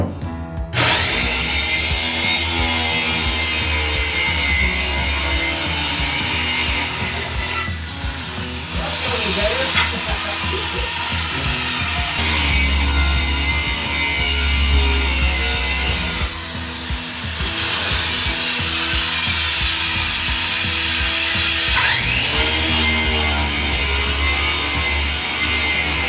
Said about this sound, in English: a circular saw and I'm gonna set the depth just above this plywood, and I'm gonna cut us some patterns in the floor here